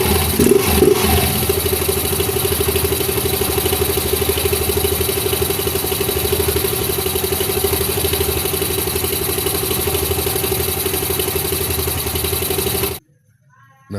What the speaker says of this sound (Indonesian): setelah kita nyalakan mesin motornya. Dan sekarang akan kita nyalakan.